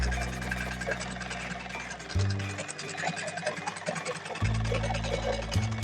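An electric sewing machine stitches a blouse seam, its steady motor hum and rapid needle chatter running in bursts with short pauses between runs.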